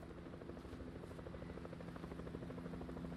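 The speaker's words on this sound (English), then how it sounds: "Yep, there's a chopper." A helicopter in the video game Fortnite drones steadily with a dense, continuous rotor thrum, fairly loud and alone with no talk over it.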